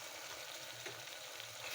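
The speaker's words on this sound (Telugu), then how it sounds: "అల్లం వెల్లుల్లి పేస్ట్ కూడా గోల్డెన్ కలర్లో ఫ్రై అయిపోయింది." Ginger, garlic and coconut paste fries in a pan for a spicy chicken gravy curry, giving a steady, dense hiss of sizzling oil throughout.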